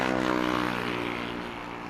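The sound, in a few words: Boeing 787 Dreamliner airliner landing at Heathrow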